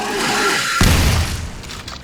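A double-barrelled shotgun in a 3D Doom mod fires once with a sharp heavy boom after a short stretch of background game noise, the blast decaying over about a second.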